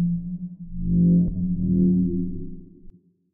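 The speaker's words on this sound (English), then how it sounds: "a certain parameter in the reverb that's giving it this nice reflective reverberated sound" A deep, dark dubstep synth bass made in Serum swells up, sustains with a wobbling growl and washed reverb, then fades out.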